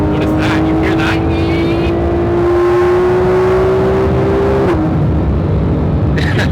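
Porsche 991.1 GT3 RS engine accelerating, with a steady rising whine that climbs in pitch for several seconds before dropping off sharply, heard from inside the car under a loud broad engine roar.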